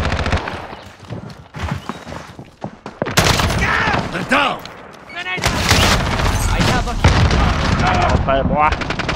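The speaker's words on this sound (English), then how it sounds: "Grenade out." Call of Duty hardcore multiplayer firefight on the Shoot House map, with loud bursts of automatic gunfire and booming explosions including a grenade blast, dense and continuous, with voices talking over it.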